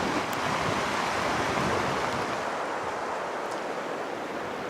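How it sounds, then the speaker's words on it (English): A river in Alaska, swollen after four straight days of rain, rushes steadily in a loud, broad, unbroken roar close by, with no voices. "She's a real river now, that's for sure."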